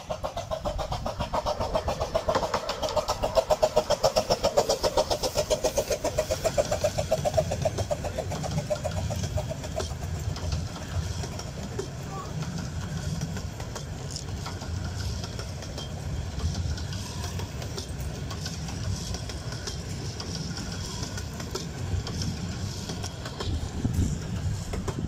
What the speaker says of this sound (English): This is the Flying Scotsman passing by.